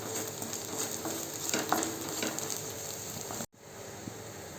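Garam masala and coriander powder sautéing in a hot pan give a continuous close sizzle with scraping stirs, cut off abruptly near the end before resuming quieter, and no one speaks.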